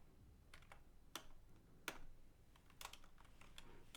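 Soft, fairly faint typing on a computer keyboard while coding in Kotlin, with irregular key taps and a few sharper clacks spread over a few seconds in a quiet room.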